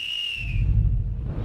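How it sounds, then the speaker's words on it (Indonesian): A person whistles a single short, high note that slides slightly downward and fades, followed by a low rumbling background. "Cuma bersiul mau panggil polisi?"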